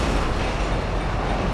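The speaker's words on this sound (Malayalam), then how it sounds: "ഇവിടെ ട്രെയിൻ വരുന്നു." A train rolls past in the GTA 5 video game, making a loud, close, continuous low rumble with a steady rushing roar and no breaks, without any talk.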